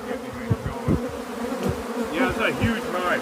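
Bees buzzing around a huge, healthy hive of about 100,000 bees, a dense close drone with individual insects passing by, with a faint voice underneath.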